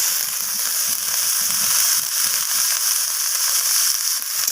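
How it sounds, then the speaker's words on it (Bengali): Spring onion stalks and onion frying in a pan, a loud, steady sizzle with faint stirring scrapes underneath, continuous throughout. "তো পেঁয়াজ কলিটাকে আমি পেঁয়াজের সাথে এইভাবে নাড়াচাড়া করে একটু ভাজা করে নিচ্ছি"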